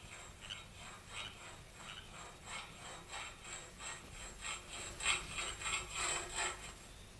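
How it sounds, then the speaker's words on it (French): A saw grinds back and forth through an iron window bar in an audio drama, steady rhythmic rasping strokes repeating close up and gradually growing louder. "Je commence à scier l'un des barreaux."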